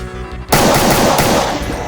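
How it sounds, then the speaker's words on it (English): Pistol fire in the game Brutal Doom, a loud, dense burst of rapid shots that starts abruptly and carries on to the end, close and dominant with no speech. "actually I like starting with the pistol"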